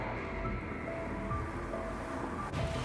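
Heavy rain and spray on the Nürburgring race track in Gran Turismo 7, a dense continuous wash of noise with the car's engine droning underneath, loud and unbroken.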